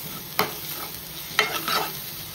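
A spatula stirs pav bhaji masala in a hot pan, two or three distinct scraping strokes over a gentle, steady sizzle, close and moderately loud.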